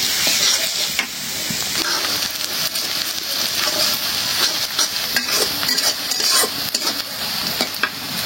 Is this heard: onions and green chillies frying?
yes